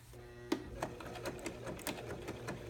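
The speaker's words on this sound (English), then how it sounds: "We're going to sew these two sides together." Baby Lock serger sewing the two sides of a fabric bag together, a faint, quiet mechanical whir with small clicks and taps over a low steady hum.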